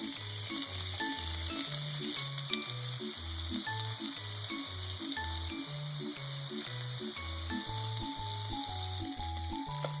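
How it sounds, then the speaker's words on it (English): Pork sizzles steadily in a pan for okonomiyaki, a continuous close frying hiss that runs the whole time under a rhythmic background music track. "Fry the pork."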